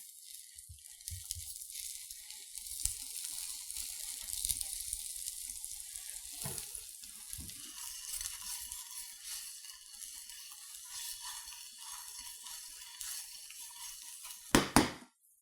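An egg sizzles quietly in an Anolon nonstick frying pan, a faint continuous crackle with soft scraping and clinks of the pan, ending in a couple of sharp knocks.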